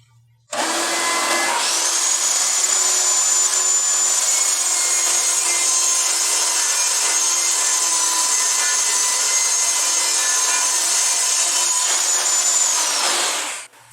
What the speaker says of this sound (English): Time now to rip this down the center.